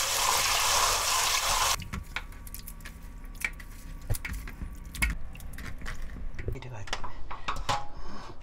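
Raw oysters are washed by hand in salted water, with wet sloshing, squishing and light clinks of shells against a bowl, close and fairly steady, with a rush of running water at the start.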